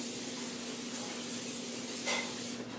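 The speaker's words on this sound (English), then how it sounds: "Take your cooking spray" A can of cooking spray hisses over a large ceramic baking pan in a kitchen in one steady, close spray lasting a couple of seconds, quiet and free of talk.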